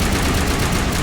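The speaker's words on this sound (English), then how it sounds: "If you could hear me through all that gunfire" Rapid gunfire in the Mass Effect video game, a loud, dense, continuous barrage of overlapping shots and rumbling low noise with no pauses through the short stretch.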